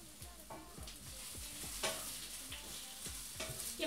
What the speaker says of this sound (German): Ich rühre mal nochmal ganz kurz rum.